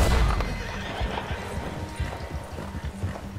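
A horse whinnies in Red Dead Redemption II, a loud neigh at the start followed by clopping hooves, with little else over it.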